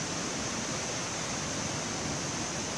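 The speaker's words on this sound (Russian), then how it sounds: "Вот он, красивый водопадик." A small waterfall on a mountain trail in the Rufabgo gorge near Kamennomostsky, Adygea, roars as a steady, dense broadband rush of falling water, close and unbroken, with no voices over it.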